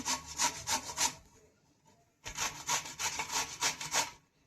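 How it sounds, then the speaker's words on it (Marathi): Pumpkin grated by hand on a grater: two bursts of quick, rhythmic rasping strokes, close and clear, separated by a short pause. "भोपळा आपल्याला किसून घ्यायचा आहे हाताने आधी।"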